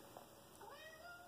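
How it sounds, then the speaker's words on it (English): A house cat meows close by, one drawn-out, rising and falling cry that sounds alone in a quiet indoor room. "my cat just came in."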